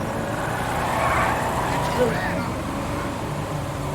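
A car engine hums steadily while driving in GTA 5, a constant mid-level drone of road and motor noise with a small bump partway through, heard under someone talking.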